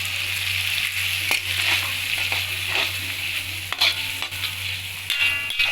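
Coconut milk sizzles steadily in a hot frying pan while cooking soya chunks pepper fry, with occasional clinks and scrapes of a spoon stirring, close and continuous.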